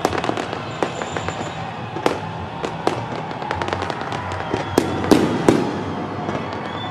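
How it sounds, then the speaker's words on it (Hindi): New Year fireworks burst over the Sky Tower in a rapid string of sharp, cracking explosions with rumbling echoes, some distant and some close, and a faint crowd beneath. "बुलंदोबाला स्काई टावर पर शानदार आतिशबाजी का आगाज कर दिया गया, जिससे आसमान रंगो नूर में नहा गया"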